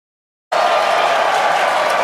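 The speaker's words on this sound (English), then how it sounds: "Everyone's cheering as we get into T-minus 5 minutes." A large crowd cheers and applauds ahead of a Starship and Super Heavy booster launch, the loud, dense roar starting abruptly and holding steady without a break.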